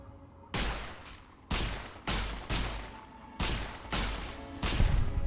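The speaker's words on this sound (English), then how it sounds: "Taking fire." Gunfire in the Fallout: Tale of Two Wastelands game comes as loud bursts, roughly seven heavy volleys that each trail into reverberation, spaced irregularly and close.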